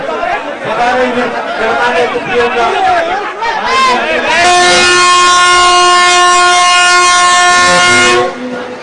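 Gwalior to Bengaluru passenger train departing at an inaugural ceremony, with crowd chatter and a voice over the station noise, followed by a long, loud sustained train horn blast lasting about four seconds.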